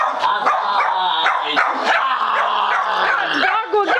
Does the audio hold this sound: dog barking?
yes